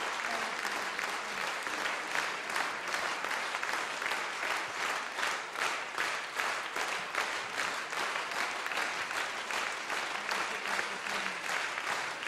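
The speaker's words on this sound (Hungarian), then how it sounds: "Szükségem is van erre a tapsra" Sustained applause from a concert audience at a live show at the Uránia National Film Theatre, dense steady clapping lasting over twelve seconds with a faint crowd murmur.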